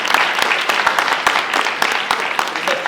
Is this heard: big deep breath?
no